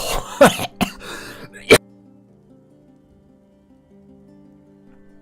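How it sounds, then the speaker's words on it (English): A few sharp, close coughs and throat-clearing bursts in quick succession, then the coughing stops and only a faint low hum remains. "That caught me, and then coughing ensued."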